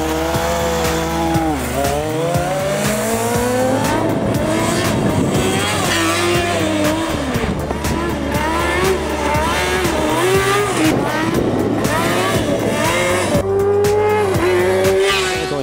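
A Formula SAE race car engine revs hard and shifts through gears, loud and continuous, with rising and falling whine throughout.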